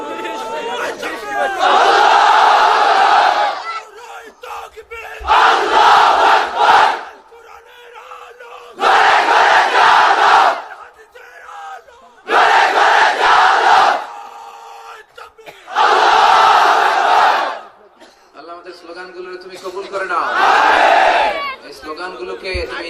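A large crowd at a Bangla Islamic religious gathering under a pandal chants takbir slogans, loud massed voices in five or six roaring bursts separated by short pauses, a lone voice leading between them.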